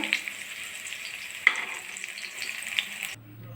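Bread pakoras frying in hot oil, a steady bright crackling sizzle with a couple of louder pops and spatters, close by, ending abruptly into a quieter low hum.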